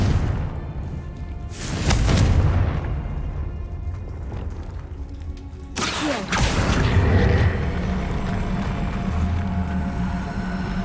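Confringo explosive curse blasts in Hogwarts Legacy: two heavy booming bursts, the second sharper and louder, each followed by a lingering rumbling roar, with no talk.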